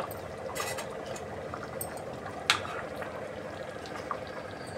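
A pot of curry with tamarind paste simmering on the stove, giving a soft, steady bubbling and gentle liquid churn, faint and close, with one brief louder pop partway through.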